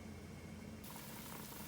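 Liquid boiling in a pot while pancit bihon cooks on the stove, giving a steady, faint bubbling hiss that thickens partway through.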